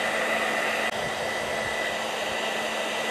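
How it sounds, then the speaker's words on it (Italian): A hair dryer blows steadily and loudly at close range while drying a repaired real leather sofa, a continuous airy whir with one brief dip in the middle. "Utilizzo un phon per asciugare per fare prima."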